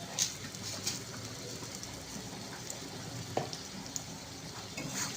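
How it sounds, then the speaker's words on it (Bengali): Spice paste with Kashmiri chili powder and a little sugar is stirred and fried in a pan, making a low continuous sizzle with scraping stir strokes and a few soft knocks. "এবার দিয়ে এটা ভালো করে নাড়াচাড়া করবো, ভালো মতন কষে যাবে।"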